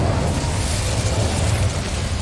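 Incendio fire spell cast in Hogwarts Legacy: a loud, sustained roaring burst of flame with booming, crackling texture, close and continuous for a couple of seconds, with no talk.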